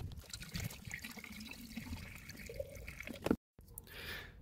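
Water pours into the cooling system of a Peugeot 106 1.1, a faint close trickle and gurgle that breaks off briefly before resuming as a soft filling rush.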